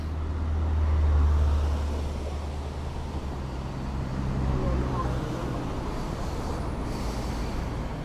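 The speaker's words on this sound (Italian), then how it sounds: "c'è sempre un po' di traffico qua" Road traffic rolling past on a route ridden by bicycle, a low steady rumble with a vehicle swelling nearby early on, then continuing as a constant background wash.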